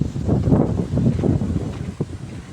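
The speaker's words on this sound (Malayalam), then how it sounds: "നല്ല കാറ്റുണ്ട്" Strong wind buffets the microphone during a bicycle ride in a continuous loud roar with gusty rumbling, no voices present.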